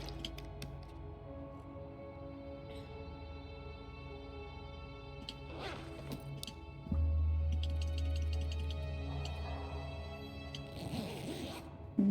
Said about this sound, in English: Yeah, with a zipper.